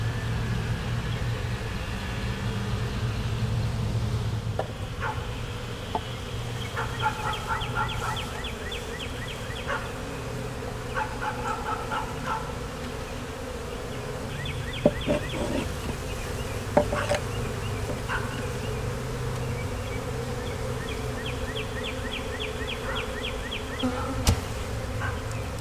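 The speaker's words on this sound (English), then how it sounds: "This swarm is already establishing, that's why they're a little defensive." A defensive honeybee swarm beneath a house, having just been shaken down, fills the air with a steady, dense buzzing hum, near and continuous, with individual bees zipping close past now and then and faint background sounds.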